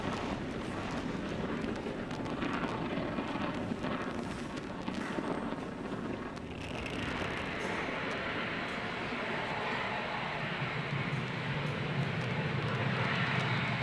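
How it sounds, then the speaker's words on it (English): SpaceX Falcon 9 rocket roaring as it lifts off from Space Launch Complex 40 carrying ESA's Hera asteroid probe, a continuous, heavy, broadband rumble that grows brighter and fuller partway through, with no talking. "Falcon 9 has successfully lifted off from slick 40."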